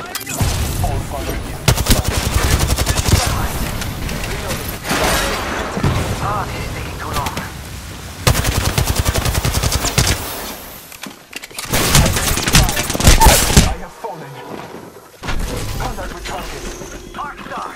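Gunfire in the video game Apex Legends sounds as loud, repeated automatic bursts and single shots through the clip, with breaks between volleys and a voice speaking amid the shooting.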